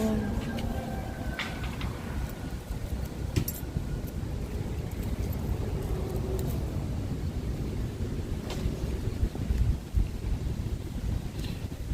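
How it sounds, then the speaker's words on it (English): Steady wind buffets a windshield-covered microphone outdoors in Tokyo near the Sumida River with a constant low rumble and roar, broken by a few faint knocks. "it's windy, but I hope my windshields are doing a good job blocking out the wind noise"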